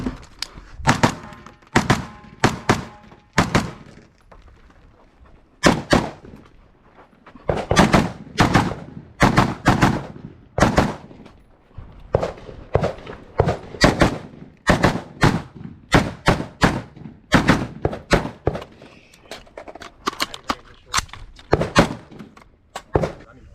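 Rifle gunshots from a Sig MCX at a USPSA rifle match, sharp loud reports fired in rapid strings and clusters with short pauses between, close and clear throughout the run.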